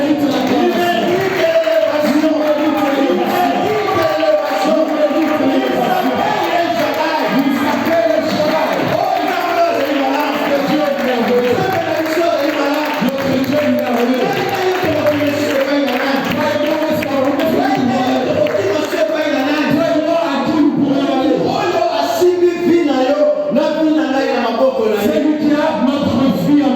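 A church congregation loudly acclaims and cheers God, a dense sustained roar of many voices shouting together, constant and close for the whole stretch.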